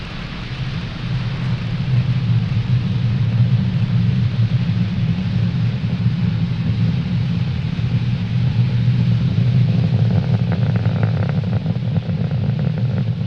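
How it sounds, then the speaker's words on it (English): A SpaceX Falcon 9 rocket lifts off from Pad 40 at Cape Canaveral carrying the EUTELSAT HOTBIRD 13G satellite, heard as a deep, steady rumble that roars continuously with no voices. "Falcon 9 has successfully lifted off from Pad 40 at Cape Canaveral"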